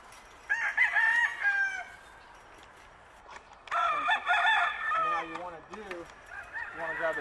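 Chickens cluck and a rooster crows repeatedly inside a 10x10x6-foot dog kennel converted into a coop, with loud overlapping calls in bursts.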